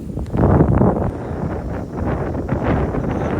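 Strong night wind by a river in Zambales buffets the microphone in a continuous low rumble with gusty swells, fairly loud and close, with no voices.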